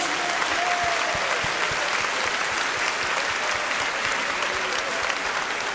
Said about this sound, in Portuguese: Acclamons ce Jésus. Aplaudimos a este Jesus.